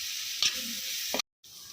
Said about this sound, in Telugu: కరివేపాకు వేగిన తర్వాత కట్ చేసుకున్న ఉల్లిపాయలు కూడా వేసుకుందాం